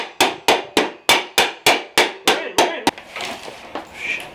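Hammer blows ring out in a garage, about ten sharp, evenly spaced strikes with ringing decay, followed by softer scattered knocks and handling noise.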